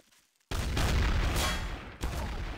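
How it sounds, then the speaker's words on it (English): Gunfire in the game Trouble in Terrorist Town, an abrupt burst of rapid shots that blur into a loud sustained roar, then a second burst hits, close and harsh with no voices over it. "Ow, he's shooting me!"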